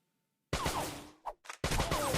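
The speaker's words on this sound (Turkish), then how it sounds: "çatışma sesleri var. Silah sesleri var" Bursts of gunfire and combat noise from the video game Major Mayhem come in sharp, loud volleys, broken by a short gap and a couple of quick hits.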